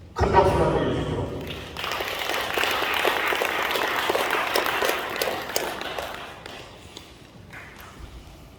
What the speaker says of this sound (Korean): 큰 박수 부탁드려 주십시오.